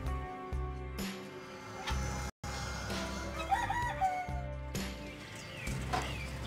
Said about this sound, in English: that was George Rooster